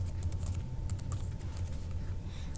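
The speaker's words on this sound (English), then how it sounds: "Type in just the username and then the password." Computer keyboard typing as a username is entered, a quick run of soft close key taps over a low background hum, no voices.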